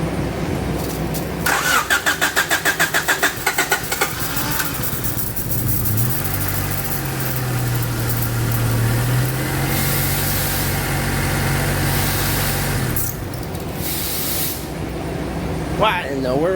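A Honda Civic EG Si hatchback that has sat for a long time and may have a weak battery cranks with a rapid chattering starter. It then catches and settles into a steady idle, with a person talking over parts of it.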